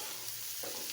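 A brief, quiet burst of frying hiss as a shrimp and bitter melon stir-fry is stirred in the pan, with a faint scrape midway.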